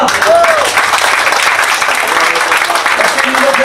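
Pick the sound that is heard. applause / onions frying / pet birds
applause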